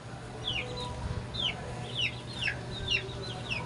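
Month-old chicks peeping in quick chirps alongside a hen clucking softly in a backyard pen, steady repeated calls at moderate level.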